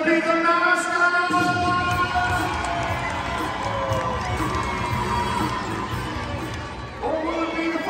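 A crowd at an event with sports mascots cheers and shouts loudly, with children's voices prominent in a sustained, noisy roar that keeps going to the end with little break.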